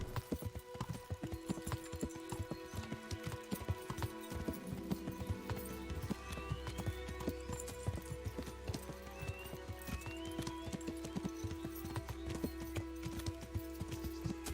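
A horse gallops in the medieval video game Kingdom Come: Deliverance, its hooves a rapid, continuous clip-clop heard close up over steady outdoor game ambience, with a brief whinny partway through.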